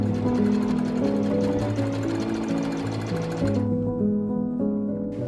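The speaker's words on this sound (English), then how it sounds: "I'm going to sew straight across this line here." A sewing machine stitches straight across a seam on a puffed-sleeve shirt, running steadily and close with a continuous rapid mechanical whir and no break for the full duration.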